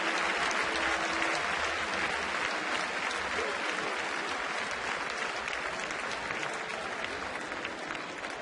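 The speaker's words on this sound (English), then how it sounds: "Nice ovation for Maben" A baseball crowd gives a player a steady, sustained ovation, with dense applause and cheering filling the stadium throughout and easing slightly toward the end.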